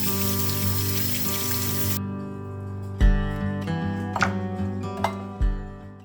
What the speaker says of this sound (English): you want to open them and strain them and rinse them